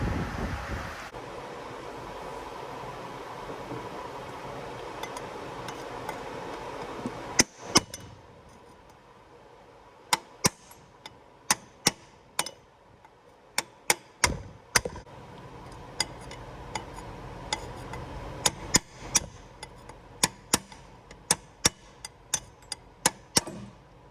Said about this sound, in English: I wanna hit it with my hammer, okay?